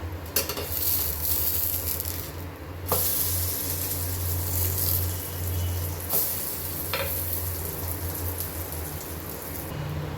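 Mini pizza cooks in a pan with a steady, close sizzle that runs unbroken throughout, with a few soft clicks and scrapes over it and no one speaking.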